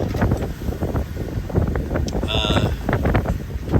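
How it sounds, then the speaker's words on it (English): Strong wind roars across the microphone on a sailboat motoring straight into the wind near Point Loma, loud and steady with gusty buffeting throughout. "right now we're going straight into the wind"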